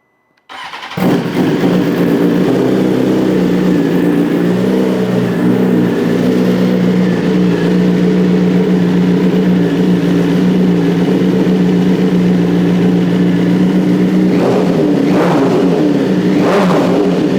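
A 2022 BMW S 1000 RR sport bike fitted with a Bren Tuning tuner cranks and fires up, then settles into a loud, steady idle close by, with a couple of sharp throttle blips near the end.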